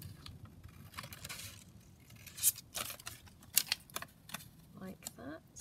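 Scissors cutting through washi paper, a few quiet, crisp snips and rustles close by, separated by pauses, with faint background noise.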